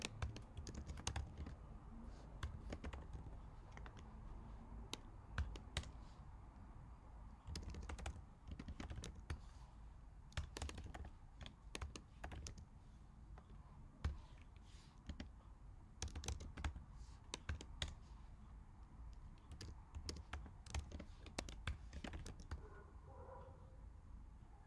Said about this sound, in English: So I'm going to type this out and then we're going to explain it.